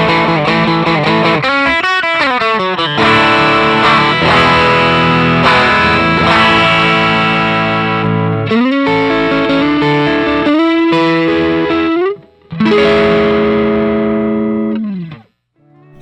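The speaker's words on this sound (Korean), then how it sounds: "다음은 그 FD1인 풀드라이브 1." Electric guitar played through a Fulltone FD1 Fulldrive 1 overdrive pedal, giving a loud, sustained distorted tone with chords and bending lead lines that cut out briefly near the end, with no talking.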